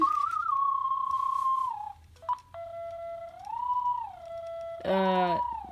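Electronic whistling tones from a Sony aibo robot dog in test mode glide and warble through sustained pitches, ending in a rapid buzzy trill, close and fairly loud.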